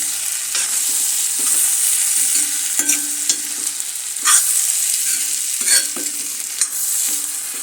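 Dal with a small spoonful of ghee being stirred in a pan, a soft steady sizzle with repeated spoon scrapes and taps at an uneven rhythm, close by and with no talking.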